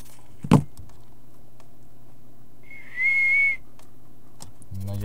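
A single clear whistled note, held steady for about half a second, sounds mid-clip during a Dirt 3 rally game session, with a sharp knock before it and faint background noise around it.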